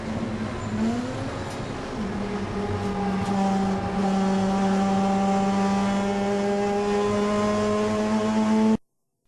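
Touring race cars lapping Thunderhill Raceway, a strong, steady engine drone from a car accelerating down the front straight, pitch climbing briefly then holding a sustained whine until it abruptly cuts out.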